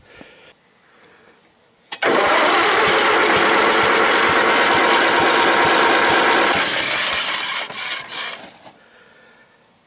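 An IH 354 tractor engine cranks briefly, catches and runs loudly at a steady roar for several seconds, then stumbles and cuts out, leaving quiet.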